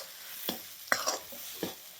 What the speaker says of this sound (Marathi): आता आपण हे सगळं मिक्स करून घ्यायचं व्यवस्थित एकदम.